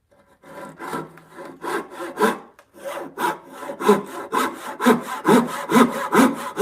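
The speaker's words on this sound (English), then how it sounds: "That's a terrible saw too." A hand saw cuts timber for bunk bed joints in a workshop, with close, rhythmic rasping strokes that start slow and uneven after a brief pause, then quicken into a steady back-and-forth.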